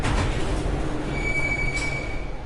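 Chicago Blue Line train wheels squeal on the rails at dawn: a steady, loud rumble of the moving car, with a thin, sharp metallic whine rising partway through and holding to the end.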